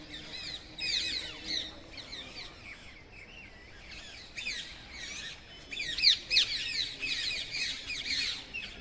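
Flock of parrots and mynas calling near Sherisha Parshwanath Jain temple by the Narmada canal near Kalol, a dense stream of shrill squawks and chattering whistles rising and falling in bursts throughout, fairly close, with no talk.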